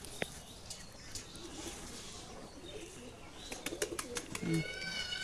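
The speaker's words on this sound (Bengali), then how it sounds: "দেখুন এগুলো কিন্তু আমার পুরনো বিড এবং পুরনো কবুতর আমার লফটের।" Madras pigeons coo in a loft: soft, repeated close-up coos with a few sharper chirps, over a busy background and faint human voices.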